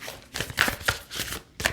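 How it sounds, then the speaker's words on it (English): Tarot cards are shuffled in a few quick riffling strokes, close and crisp, each swish following the last in an uneven rhythm with no voices. "Get a little shuffle going here."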